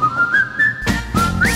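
A person whistles a bright, high tune in a singing-show challenge, a clear sustained melody line that rises and falls, with sharp breathy bursts partway through.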